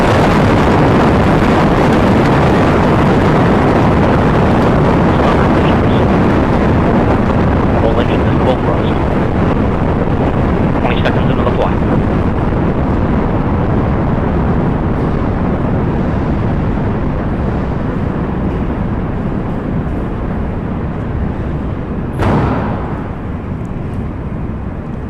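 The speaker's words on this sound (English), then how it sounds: "We have liftoff of the United Launch Alliance Delta IV Heavy rocket carrying the NRO L-65 mission to the National Reconnaissance Office." Loud, continuous roar of a Delta IV Heavy rocket lifting off, its RS-68 engines firing under strong wind buffeting, steady and rumbling for the whole stretch with a brief sharp crack near the end.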